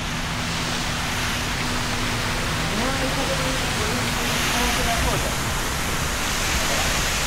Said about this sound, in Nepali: पानीको झरना